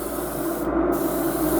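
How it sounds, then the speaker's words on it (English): Steady hissing aerosol spray of matte black paint coated onto a Hudson H9 pistol, a continuous close spray with a brief pause midway, no talking. "And spray an equal amount all the way around."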